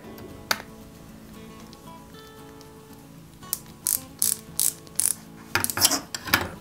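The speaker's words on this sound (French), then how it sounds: "Je vais fixer l'autre aussi de l'autre côté. Comme ceci, pareil, avec une petite vis AP." Small screw being driven into a Peugeot 205 GTI 1.9 die-cast model kit by hand: a quiet, close series of short clicks and ticks, growing into several sharper ratcheting taps near the end.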